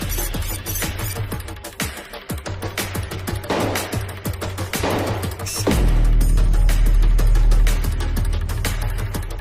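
Rapid gunfire in a hotel shooting reenactment, dense bursts of loud cracking shots and impacts, followed by a heavy sustained low rumble after the volley, with no voices.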